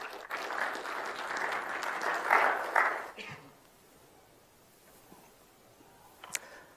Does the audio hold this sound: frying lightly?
no